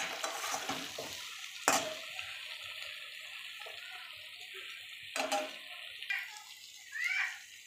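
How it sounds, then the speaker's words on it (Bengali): Fried eggplant is stirred in a pan with ground dried red chili paste: scraping and clattering of a utensil against the pan over a faint background sizzle, with a few louder knocks. "বেটে নেওয়ার পরে সেই শুকনো লঙ্কাটা বেগুনের মধ্যে দিয়ে ভালো করে নাড়িয়ে চাড়িয়ে নেবো বেশ কিছুক্ষণের জন্য।"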